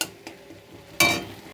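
Whole spices and broken dried red chillies frying in hot oil while being stirred, a short close scrape and sizzle with one louder burst of crackling near the end.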